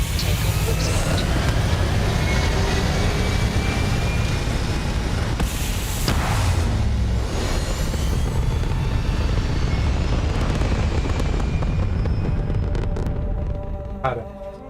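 Spaceship engines roar during a takeoff in Starfield, a loud sustained rumble with rising whooshes that fades near the end, with a voice talking over it.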